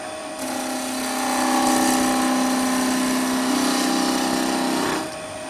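A skew chisel taking a planing cut on spinning wood on a wood lathe, a steady whirring hum with a shaving hiss that swells in, holds for several seconds, then drops away.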